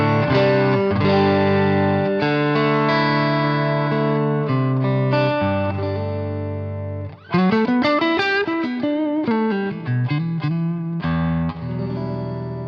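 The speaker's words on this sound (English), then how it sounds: "Now, this is an Earthquaker Black Eye boost, turned up a little bit, and it's going to drive the front of the amp, and it sounds like this." Electric guitar pushed through an Earthquaker Black Eye boost pedal driving the front of an amp, playing a crunchy, distorted run of sustained chords and melodic notes for about twelve seconds, loud and close with no talking.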